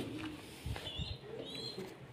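Soft, low cooing of pigeons, a couple of murmuring calls, fairly faint against light background noise and a few higher chirps.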